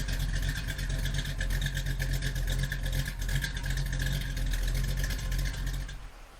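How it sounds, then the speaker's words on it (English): A Plymouth GTX American muscle car engine runs at a steady, rumbling idle with a low droning tone, fairly quiet and even, then fades out toward the end. "A Plymouth GTX."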